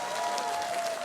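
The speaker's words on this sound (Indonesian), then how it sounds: "mana tepuk tangannya masyarakat Desa Demule yang lebih meriah lagi" Villagers of Desa Demulih in Bangli, Bali, applauding during a village quiz show, a brief steady patter of clapping heard at a distance and fairly faint, with a faint tonal hum running beneath it.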